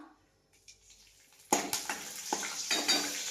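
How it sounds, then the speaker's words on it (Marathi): Fresh curry leaves hit hot oil in a kadhai while chicken masala is being cooked. A quiet stretch with light clinks gives way to a sudden loud sizzle that keeps crackling and spitting close by. "तेल गरम झालंय आता मी याच्यामध्ये ऍड करणार आहे कढीपत्ता"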